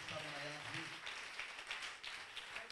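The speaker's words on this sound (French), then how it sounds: "On acclame pour lui." Applause and cheering from a church congregation during a worship service, a steady crowd clapping that holds at an even level for a few seconds, with some voices mixed into the noise.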